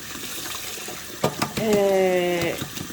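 Cold tap water runs into a sink over a boiled egg while its shell is cracked, a steady close splashing stream with a few sharp knocks and a brief resonant tone partway through, and a voice faintly underneath.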